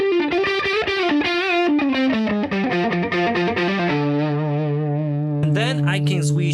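Electric guitar played through a UAFX pedal with a brief room reverb, a melodic run of distorted, chorus-tinged notes settling into a sustained held note, followed by a bright strummed chord, close and loud.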